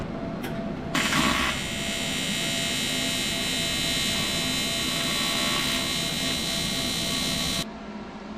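A welder tacks a homemade pro mod style catch can to a tank, giving a steady harsh electric buzz and crackle that starts abruptly, holds for several seconds and cuts off cleanly.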